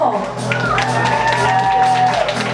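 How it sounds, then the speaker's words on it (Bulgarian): Applause and cheering at a beauty pageant for the organizer, with a crowd clapping steadily throughout and shouts and whoops rising over it, loud and close. "Бурни аплодисменти за него!"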